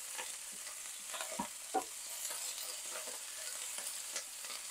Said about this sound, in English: I'm just going to throw in all of the vegetables. Whoa, it makes a big noise.